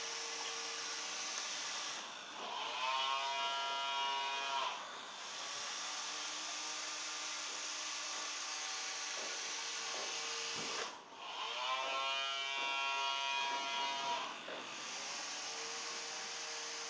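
A small DC motor driven through a servo circuit board spins a propeller in reverse, giving a steady high whine. Twice the pitch rises and falls in a warbling sweep, and no one speaks.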